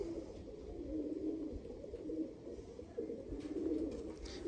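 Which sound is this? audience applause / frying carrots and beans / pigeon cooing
pigeon cooing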